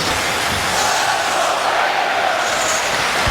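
Crowd noise fills a hockey arena during a Flyers at Rangers playoff game on New York home ice, a steady, dense roar of many voices holding level without a break.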